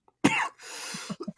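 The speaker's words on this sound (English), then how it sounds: "You got a cough to get off." One sharp, loud cough bursts out, followed by a raspy exhale and a few small throaty grunts.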